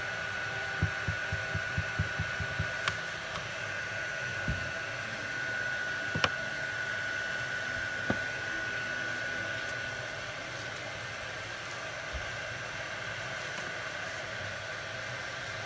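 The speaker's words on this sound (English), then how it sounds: "I've got it going, the heat tool, so it's heated up" Embossing heat tool blowing on a holiday card, a steady, fairly quiet whooshing hum with a few soft clicks and taps early on and no talking.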